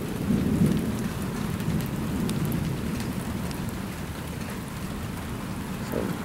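Heavy thunderstorm rain pours steadily over Hampton Roads, Virginia, with deep rolling thunder rumbling continuously underneath, a dense close wash of rainfall with no voices.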